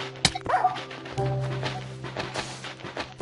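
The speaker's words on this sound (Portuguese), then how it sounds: "Olha o cachorro." A dog in the Minecraft video game gives a few short yips and barks, with a sharp sound near the start and a faint tonal whine afterward. No one speaks.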